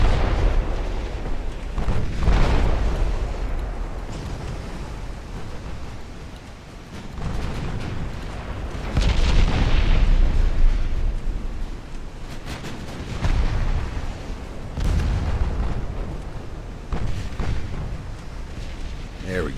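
Warship artillery in the naval battle game Ultimate Admiral: Dreadnoughts, with 8-inch casemate guns firing on a light cruiser: repeated deep booms and rumbling blasts at irregular intervals over a continuous low roar, with a voice talking over it.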